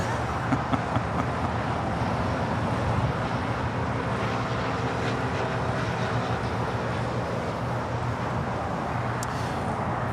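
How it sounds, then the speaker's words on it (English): An Alaska SkyWest Embraer E175LR jet departs from the south side of LAX, a steady, far-off broadband engine roar that stays level throughout, blended with the ambient airport noise. "Next departure here on the south side is Alaska SkyWest, flight 4070, heading to San Jose, California. It's the E175LR."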